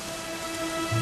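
Steady rainfall in the Dragon Quest XI video game, a continuous even hiss of falling rain with a low rumble swelling near the end, alone without talk.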